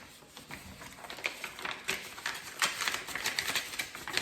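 A paper envelope holding HelloFresh recipe menus being opened close up, a steady run of crisp crinkling and tapping paper sounds that grows busier toward the end.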